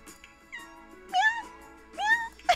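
Cat meows from The Sims 4 game: a few soft, separate meows spaced about a second apart, each rising then falling in pitch, heard alone over a faint background.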